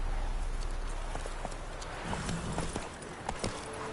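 Roach the horse gallops in The Witcher 3, steady clip-clop hoofbeats drumming close and continuous over a faint game background.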